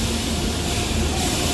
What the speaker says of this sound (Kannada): ಸಂತೆಯಿಂದ ನಮ್ಮ ಟ್ರೈನ್ ಬಂತು.